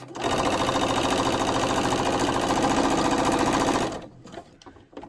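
A sewing machine runs at a steady, fast whirring clatter as it stitches elastic onto fabric for a waistband, continuous and close for about four seconds before stopping abruptly, leaving faint handling noises.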